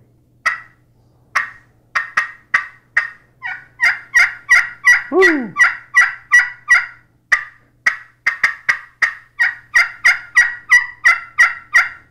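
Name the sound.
turkey pot call imitating gobbles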